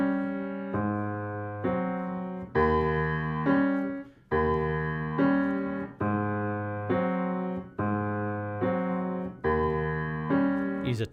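Jazz piano left hand plays a stride pattern over an Eb blues, with steady alternating bass notes and chords in a clear, even rhythm, close and moderately loud, with no voice over it.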